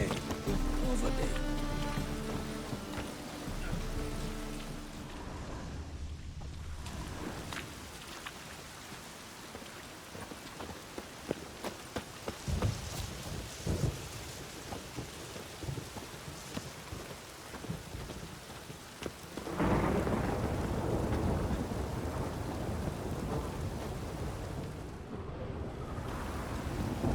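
Heavy rain and rolling thunder from a thunderstorm in the video game The Witcher 3, a dense, loud, continuous wash with deep rumbles swelling throughout, and occasional game character voices speaking over it.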